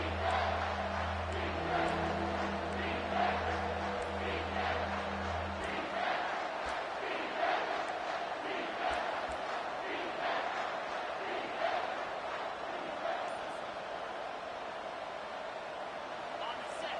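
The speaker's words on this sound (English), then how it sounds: "this crowd is tearing the lid off this place" A football stadium crowd roars continuously during a game, a loud sustained wash of cheering with swelling peaks, while a commentator talks over it and a low horn-like drone opens the first few seconds.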